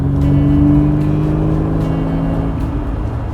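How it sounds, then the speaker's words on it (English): A Volvo Amazon 123 GT engine revs steadily from inside the car, a loud sustained drone that climbs and holds near 3000 rpm with no one speaking over it. "It starts to come alive around 3000 RPMs or something."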